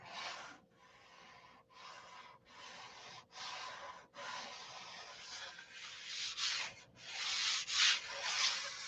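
Hand sanding on an I-beam aircraft wing tip, steady rhythmic back-and-forth strokes of abrasive scraping, close and fairly quiet, with short pauses between passes that grow louder and more continuous toward the end.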